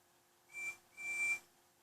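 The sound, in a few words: train whistle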